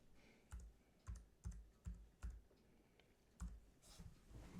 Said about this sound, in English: I'm using the keyboard to do this.